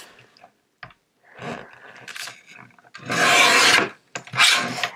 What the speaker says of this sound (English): So I need to go ahead and trim down my photo part of this card.